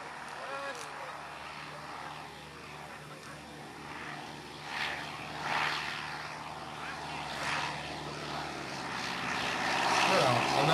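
A Piper J3 propeller plane flying a low demonstration pass: faint, distant engine drone that swells and fades, growing steadily louder toward the end.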